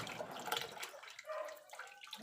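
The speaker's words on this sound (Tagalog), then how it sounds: "Nagdagdag ako ng tubig." Water poured into a container holding farmed catfish, a faint, brief splashing trickle with small drips, fading after about a second.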